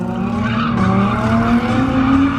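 Tires of a totaled Ford Mustang squealing steadily as they break loose, a loud continuous screech over a revving engine.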